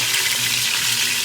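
Chicken pieces browning for arroz con pollo sizzle and fry in a pan, a steady bright crackling hiss heard up close with no talk.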